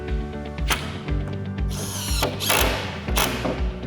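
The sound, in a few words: power drill screwing wooden sauna base pieces together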